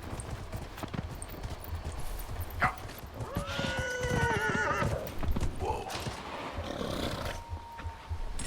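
A summoned horse mount in the video game Dragon Age: Inquisition whinnies loudly in the middle of the stretch, with clip-clopping hooves and game ambience around it.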